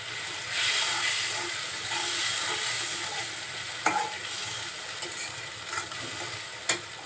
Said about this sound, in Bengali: সবকিছু দিয়ে মশলাটা খুব সুন্দরভাবে কষিয়ে নিচ্ছে।